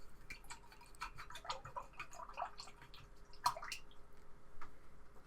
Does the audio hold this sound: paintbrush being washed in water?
yes